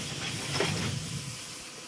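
A steam locomotive pulls into a station platform and vents steam as it halts, a loud, steady broadband hiss that holds unbroken for the whole stretch, with a faint low rumble underneath.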